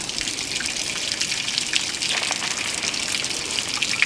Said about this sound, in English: let's just let it pour out fairly slow and see